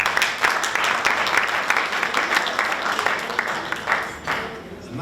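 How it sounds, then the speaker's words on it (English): A Jewish audience applauds during a speech by World Jewish Congress President Ronald S. Lauder, with dense, steady clapping filling the hall throughout and swelling slightly in places. "I'm not used to Jewish audiences applauding so much."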